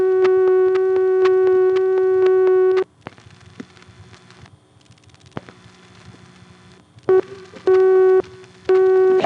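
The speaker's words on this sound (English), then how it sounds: "we did get a busy signal tone trying to call directory assistance" A 1976 telephone busy signal heard when dialing directory assistance through an NX2 crossbar exchange in Hague, Virginia: a steady interrupted tone for nearly three seconds, then line noise and clicks, and the tone returns in short bursts near the end.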